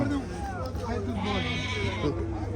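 Sheep, ewes with lambs, bleat repeatedly at a busy Chiroqchi livestock bazaar, their wavering cries rising over a constant crowd murmur and nearby talk.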